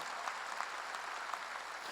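A church congregation at a Sunday service applauds in praise, a steady wash of many hands clapping that sounds somewhat distant and fairly quiet, without voices on top.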